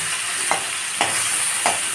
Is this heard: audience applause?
no